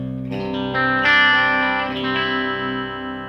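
An electric guitar through an ENGL Savage 120W amp head with the mids cut plays a few sustained chords, with a thin, scooped tone and a slight sizzle on top, no talking.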